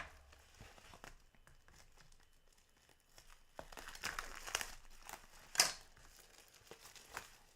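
Made with Love Designer Series paper, a 12 by 12 pad, crinkles and rustles faintly during an unboxing, with soft scattered handling noises building to a few sharper crackles near the end.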